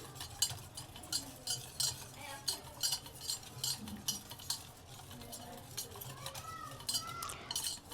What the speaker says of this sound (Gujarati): આવી રીતના આપણે થોડીક સાઈઝ લઈને એમાં લોટ નાખીને બધું મિક્સ કરી લેવાનું।